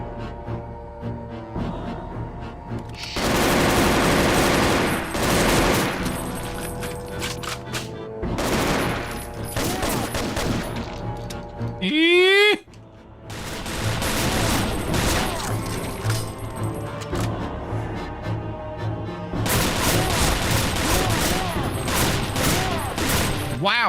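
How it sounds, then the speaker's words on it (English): Rapid burst-fire gunshots in the Doom mod Reds Over World, loud clustered volleys of shots repeating through the scene amid game effects, with a brief swooping electronic tone midway. "Wow, this is burst fire."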